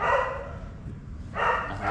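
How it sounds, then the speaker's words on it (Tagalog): A dog barks close by in short bursts, one at the start and another pair near the end, with a quieter stretch of background noise between them. "Aso."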